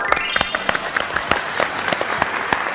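Studio audience applause on a Turkish quiz show after a correct answer: a steady, dense wash of many hands clapping at once, moderately loud and continuing throughout.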